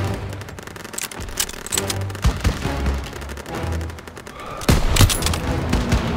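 Rapid gunfire from a Call of Duty WWII battle, dense bursts of automatic fire with booming impacts mixed with game music and effects, loudest in a heavy burst near the end.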